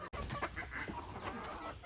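Hens kept in small coops with a rooster cluck steadily and overlap in a busy, continuous chatter close by, with no voices present.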